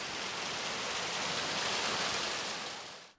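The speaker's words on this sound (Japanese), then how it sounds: "もう滝の音に癒されました今" A waterfall on a cycling outing gives a steady, full roar of rushing water that holds evenly for about three seconds, then drops away at the very end.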